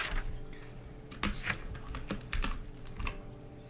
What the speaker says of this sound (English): I just unplugged my keyboard so that I can clean it off.